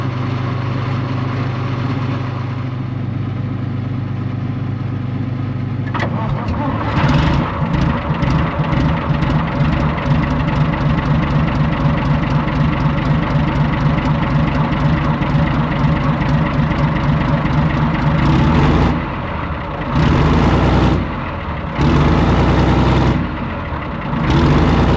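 An abandoned tank's engine cranks, then catches and runs loud and rough with a rapid uneven chug, cutting out briefly and restarting a few times near the end.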